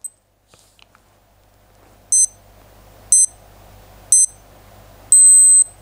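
Three short, sharp electronic beeps about a second apart from a Casio digital watch's stopwatch countdown, followed by a longer sustained beep, high-pitched and clear over a faint background hum.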